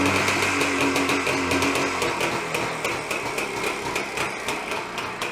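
An old two-cylinder engine idles after repair with a rapid, steady mechanical clatter and popping exhaust, running continuously and fairly close, with no voices.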